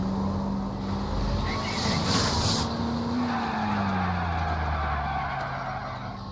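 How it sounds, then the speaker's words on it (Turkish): Car braking hard and skidding in the video game L.A. Noire, a long tire squeal over a droning engine that slowly falls in pitch, loud and close with no voices. "Şu kadarcık hızda arabanın duruş mesafesine bakar mısınız?"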